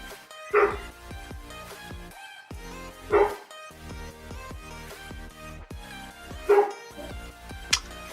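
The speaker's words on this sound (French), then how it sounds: "Ça aboie. C'est l'inconvénient d'avoir des chiens." Dogs at home bark in short bursts, about three loud barks spaced a few seconds apart with yips and whimpers between them, close by and without talk.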